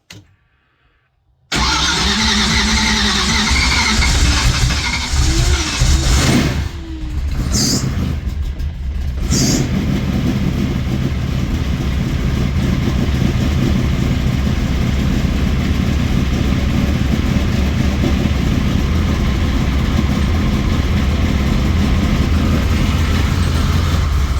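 A racecar engine, idle for about five months, is silent at first, then fires up abruptly and settles into a loud, steady, rumbling idle that runs uninterrupted for the rest of the time.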